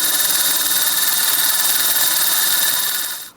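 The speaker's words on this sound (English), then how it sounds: "I'm going to use a drill and spin this against the grinding wheel" Drill spinning a steel socket against a grinding wheel, a loud, steady high-pitched grinding whine that holds for about three seconds before quickly fading out.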